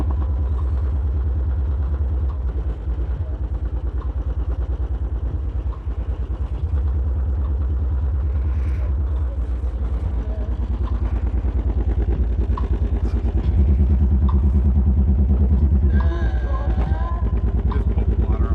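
Car and motorcycle engines rumble at a car meet, a continuous low idling drone that goes on throughout with occasional revs and clatter, loud and close.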